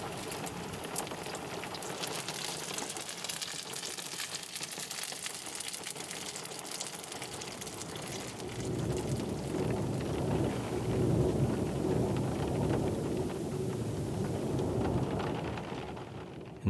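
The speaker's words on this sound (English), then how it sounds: "It's hailing." Hail pelting down during a storm in Iceland, a dense steady hiss of pellets striking surfaces that grows louder and heavier partway through, close and alone.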